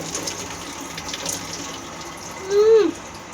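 Tap water runs steadily into a sink while someone washes their face, a low continuous hiss close by, ending in a brief louder splash or gush near the end.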